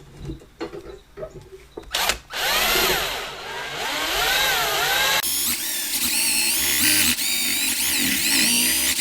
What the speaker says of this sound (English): all you're doing is going to drill out this rivet